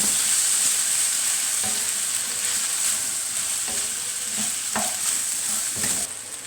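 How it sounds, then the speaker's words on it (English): Boiled rice stirred into a jeweled rice salad with a spoon, steady scraping and stirring over a soft sizzling bed, with a few sharper clinks of the spoon against the pan, close and continuous. "So we add the rice spoon by spoon into and we're just going to mix that rice in."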